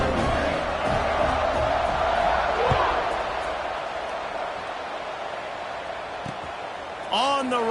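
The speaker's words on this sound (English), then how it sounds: "this crowd is feeling themselves after that last drive" A college football stadium crowd roars and cheers after a touchdown and successful point after, a broad sustained wash of distant voices that slowly fades, with a commentator talking over it.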